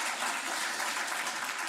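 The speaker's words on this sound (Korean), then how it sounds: "박수로" A church congregation applauds after a closing prayer at a missionary's testimony service, giving a dense, even burst of clapping that fills the space for under two seconds.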